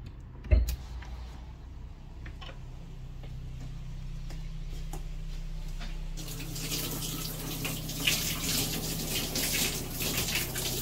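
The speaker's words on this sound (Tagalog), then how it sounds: "ginagamit ng po ni Granddad yung bagong shower head" New shower head running water in a home bathroom, a steady hiss and spray that swells louder partway through, with scattered ticks and a clunk near the start; no talk.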